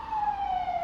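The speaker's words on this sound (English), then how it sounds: "obligatory ambulance from Magen David Adom." A Magen David Adom ambulance siren wails close by in an Israeli street, a single loud steady tone gliding slightly downward as it passes.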